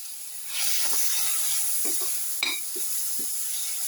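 A vegetable mixture sautéing for pepper shrimp vermicelli pasta gives a steady loud hiss and sizzle, with a few scraping stirs of a spatula and one sharp clink partway through.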